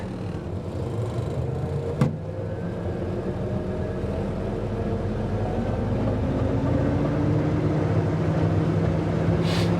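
A 1952 Willys M38-CDN Canadian military jeep built by Ford pulls away in non-synchro first gear, its engine a steady, loud low drone that builds slightly over time, with a single sharp clunk early on.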